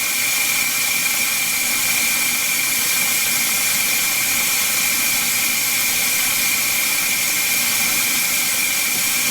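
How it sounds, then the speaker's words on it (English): Steady, loud broadband hiss of propane rushing through a valve and hose into a tank during a DIY refill, continuous and unbroken from start to finish with no talking over it. "So we're filling it up, we're letting propane into the tank"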